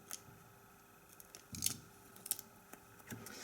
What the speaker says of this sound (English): I don't need this part here, so I can cut it off